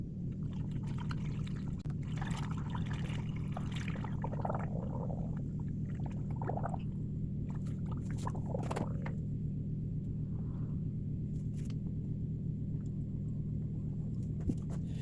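Coolant being poured from a bottle into a car's cooling system during a water pump replacement, a steady soft gurgling trickle with a continuous low rumble underneath and no talking.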